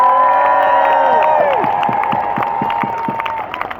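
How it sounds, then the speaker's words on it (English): Crowd at a Trafalgar Square protest in London cheering and shouting, with whoops and voices that swell loudly at first, then thin into scattered clapping and calls as the noise fades slightly. "Give her a round of applause."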